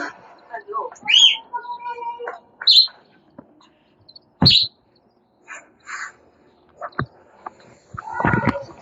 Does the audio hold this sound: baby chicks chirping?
yes